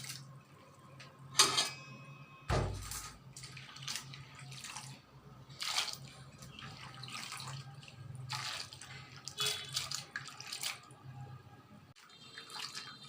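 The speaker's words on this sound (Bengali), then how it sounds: "পরিষ্কার পানি দিয়ে 3 থেকে 4 বার ধুয়ে নেব।" Grated raw mango for a sweet pickle is washed by hand in a bowl of clean water, with close, intermittent splashes, drips and soft sloshing in irregular bursts and one sharper knock against the container.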